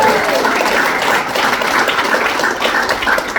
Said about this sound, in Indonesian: Tepuk tangan untuk Pak Haji Febrian.